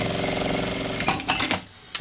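A sewing machine stitches a bag's lining with a fast, steady mechanical rattle, close and loud, then stops in a few quick bursts and clicks.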